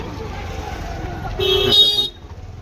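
Busy street traffic beside a market near the railway station in Bhubaneswar, with a steady engine rumble and a loud close horn blast lasting about half a second over the din.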